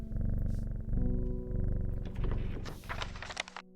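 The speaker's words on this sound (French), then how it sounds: "Le chat." A cat purrs in the video game Strange Horticulture, a steady low rumbling purr running through the whole short stretch with soft game music and chimes layered over it and no talking.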